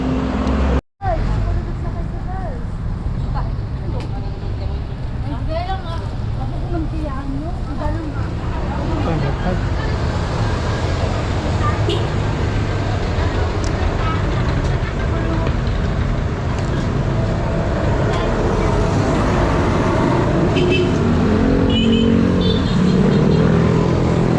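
Heavy daytime road traffic on the highway near SM Santo Tomas in Batangas, heard from a bicycle: a loud, steady roar of engines and tyres runs throughout, with a brief dropout near the start and a voice mixed in.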